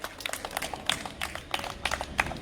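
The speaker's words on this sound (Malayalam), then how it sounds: "ക്ലാപ്പ് കൊടുക്ക്." Young children in a madrassa classroom clap for a classmate, a short burst of scattered, uneven claps close by in a small room.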